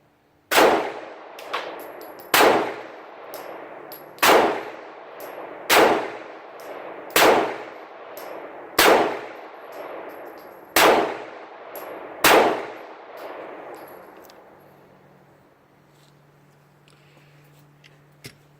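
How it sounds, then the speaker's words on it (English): Eight M&P Shield 9mm pistol shots strike a steel target, each a loud ringing clang that decays over about a second, spaced roughly 1.5 to 2 seconds apart, followed by a fading metallic ring and quiet. "Next up is the M&P Shield 9mm. I'm going to load that up and take a few shots with that."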